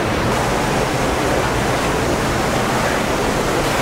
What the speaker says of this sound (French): C'est la cascade qui reflue dans la galerie.